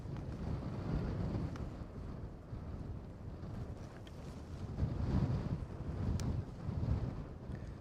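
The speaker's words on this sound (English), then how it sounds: "Man, that wind is rough." Strong, gusty wind buffets the microphone outdoors at night, a steady rough rumble that swells and surges in waves, with no talking over it.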